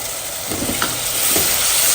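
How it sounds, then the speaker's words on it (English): Tomatoes cooked with turmeric, chili and cumin powder being stirred in a pan, a steady sizzle with a few soft scraping stirs, close and moderately loud, no talking. "stir it a little bit"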